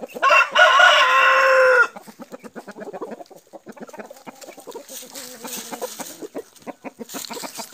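A rooster, an older bird among several roosters on a farm, crows loudly and close for about two seconds, then keeps up rapid, rhythmic clucking and low chatter that fades and returns.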